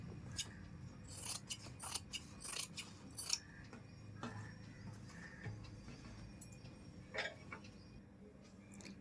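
Scissors snip through cloth for a puff sleeve in quick, crisp clustered cuts, close but fairly quiet over low background noise.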